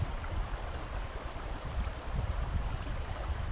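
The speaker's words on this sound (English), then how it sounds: "Now what I'm doing is I'm just swirling the water and letting it move" Water swirling in a gold prospecting pan while panning in Virginia, a steady low washing and sloshing rush that continues throughout, close and fairly loud, with no voices.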